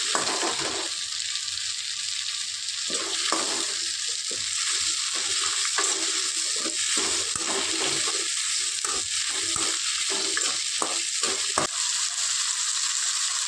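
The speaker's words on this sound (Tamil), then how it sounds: "இப்போ இதை நல்லா வறுத்துக்கலாங்க" Onions with a piece of ginger and garlic frying in a pan for a Kongu-style mutton curry, a bright constant sizzle with repeated scraping stirs and clicks of the ladle, near and uninterrupted by voices.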